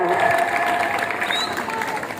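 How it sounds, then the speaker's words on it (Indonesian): Applause at a scout campfire ceremony for Ananda Kaisa, from students of MIN 3 Bondowoso: a brief, continuous wash of many hands clapping outdoors, fairly loud, with tonal voices mixed faintly underneath. "Tepuk tangan untuk Ananda Kaisa."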